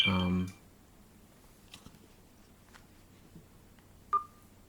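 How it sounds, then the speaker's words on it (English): Phone text message notification, a short tonal chime that rings out once after a brief stretch of talk, then a quiet room with faint clicks and a small beep. "sorry, I got a text on my phone."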